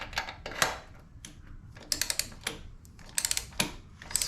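Bolts coated with Loctite being tightened on a Harley-Davidson Dyna motorcycle in a shop, heard as bursts of quick, close ratcheting clicks separated by brief pauses.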